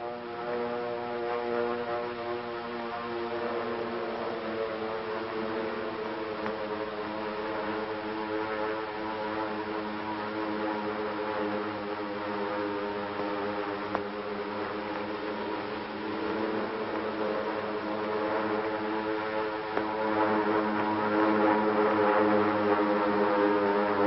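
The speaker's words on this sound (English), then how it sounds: "the drone of planes was faintly heard" Steady droning hum of propeller aircraft over Pearl Harbor on December 7th, continuous and even, a low engine tone that swells slightly toward the end.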